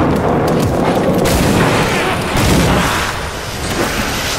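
Gunfire from a Skaven gun during a Warhammer video game battle in Castle Drachenfels, a dense, continuous barrage of booming shots that stays loud across the whole stretch.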